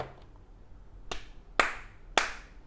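A person near a NUBWO NK-30 Vacant gaming keyboard with sound-reactive lighting claps three times, sharp and close; the second and third claps are louder than the first, with quiet pauses between them.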